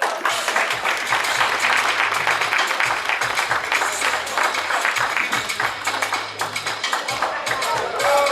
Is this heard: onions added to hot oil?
no